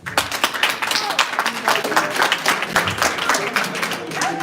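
Audience applause at a convention talk show, a dense spread of clapping from a crowd with cheering voices mixed in, sustained and fairly loud throughout.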